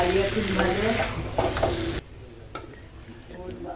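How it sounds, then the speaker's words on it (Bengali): Green peas are stirred and fried in a wok with a loud, busy sizzle and scraping for about two seconds, then a much quieter sizzle with a single clack. "জল দিতে আগে একটু ভাজা ভাজা করে নিই, কড়াইশুঁটির গন্ধটা না গেলে আবার কাঁচা"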